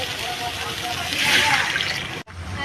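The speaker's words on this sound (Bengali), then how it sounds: "তো কষাই হয়ে গেছে, এবার জল দিয়ে দেবো।" Water pours into a curry cooking in a pan, a steady broadband rush of sloshing liquid close by that swells midway, then cuts off sharply near the end before a quieter bubbling continues.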